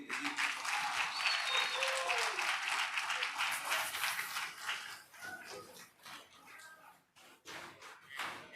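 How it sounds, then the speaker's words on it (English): Applause from an audience after a soulful performance at an anniversary celebration, dense clapping that thins and fades over several seconds into scattered claps, with faint background voices. "Let's give a huge round of applause for them."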